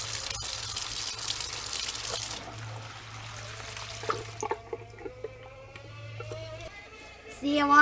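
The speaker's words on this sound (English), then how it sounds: "Now when I turn on the faucet," Water leaks from a cracked outdoor faucet, hose bib or sillcock as it is turned on, making a soft, steady hissing trickle and spray up close while someone talks over it.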